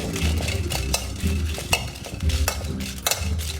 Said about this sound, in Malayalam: എണ്ണയൊന്നും ഒഴിക്കണ്ട, ചുമ്മാ വറുത്താലേ മതി